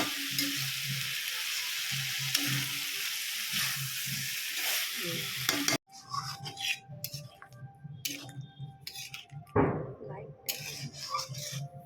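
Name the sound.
sautéing and stirring jackfruit curry with potatoes in pan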